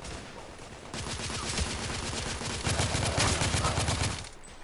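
Rapid, sustained automatic gunfire in The Order: 1886, a dense stream of shots loud and close, swelling toward the end before cutting off, with no talk over it.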